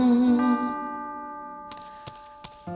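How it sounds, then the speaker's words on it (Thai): A sustained bell-like tone rings and slowly fades, followed by a few sharp clicks or taps in the quiet tail. "ได้ยินเสียงระฆัง"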